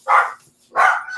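Two pet dogs bark indoors, giving two loud, close woofs separated by a short pause.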